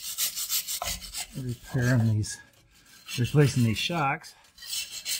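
Wire brush scrubbing the underbody of a 2012 Toyota Tundra during rear shock replacement, a steady scratchy rasping that runs beneath someone talking.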